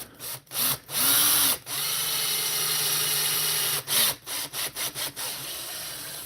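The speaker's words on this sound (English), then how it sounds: "I'm just going to drill a hole back in the head here" A power drill with a small bit runs in several bursts, a long steady whir followed by short stop-start pulses as the bit bores into wood, close and loud.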